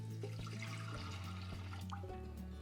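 Milk poured from a shaken container into a bread maker pan makes a close, continuous liquid gurgle with small glugging bumps, steady and fairly quiet, with no one talking.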